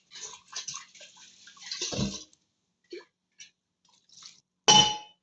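Metal utensils clanging while boiled rice is strained in a home kitchen, several sharp clangs and rings with brief watery sounds, a loud final clang near the end.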